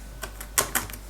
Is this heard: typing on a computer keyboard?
yes